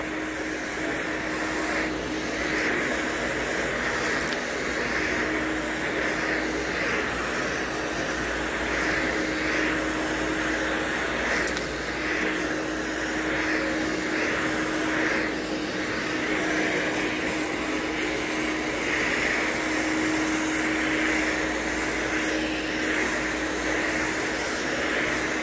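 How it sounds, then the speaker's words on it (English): A backpack vacuum cleaner runs on carpet with a constant whining, droning motor hum that stays steady and unbroken for the whole stretch, with no talking over it. "So I'm just going through and just vacuuming up."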